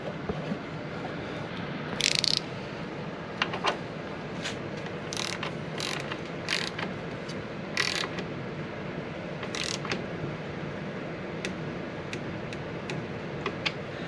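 Torque wrench tightening bolts on a TorqueFlite 727 automatic transmission to 72 inch-pounds, a series of quick ratcheting clicks and sharper ticks scattered over a steady background hum, close up with no voices.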